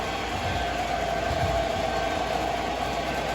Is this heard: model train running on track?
yes